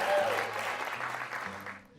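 Studio audience applause and cheering breaks out during a late-night talk show, a dense steady wash of clapping that swells at the start and holds for about two seconds before tapering, with faint voices under it.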